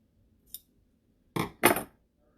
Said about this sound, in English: Let's trim that up a little bit.